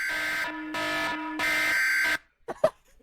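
Harsh EAS emergency alert tone in a creepypasta remake, sounding as three loud sustained buzzing blasts with a dip between them, cut off abruptly and followed by a few brief noisy bursts.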